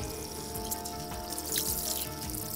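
An alpaca wool jacket is dipped into water, giving close, soft sloshing and trickling splashes with a brief rush of dripping partway through, over faint background hum.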